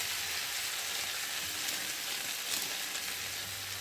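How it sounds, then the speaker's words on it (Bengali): Kashmiri chili powder fries with taro and potatoes in a pan, giving a steady, even sizzle and hiss up close with no voices. "কাশ্মীরি গুঁড়ো লঙ্কা, বুঝতে পারছো, দিয়ে একটু ভালো করে কষিয়ে নেব।"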